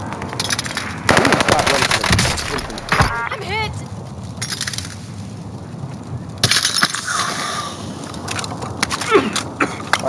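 Rapid machine gun fire in a video game shooter, bursts of gunfire with impacts and breaking debris, loud and close, interspersed with a player talking over the action.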